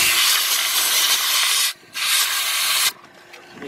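Compressed air hisses loudly from a long-nozzle air line aimed into the heater assembly area of a 2003 Honda Pilot, in two long bursts separated by a brief pause, then cutting off.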